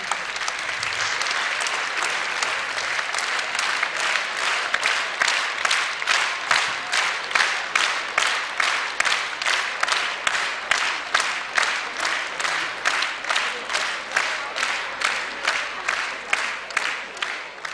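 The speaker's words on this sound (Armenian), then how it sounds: "որ մեր ժողովուրդը այս պահին ծափահարեին ձեզ" Theatre audience applauding ashughs, Armenian folk minstrels, at a sixtieth-birthday celebration in a hall; steady, dense clapping sustained throughout with a rhythmic pulsing, loud and close, no voices over it.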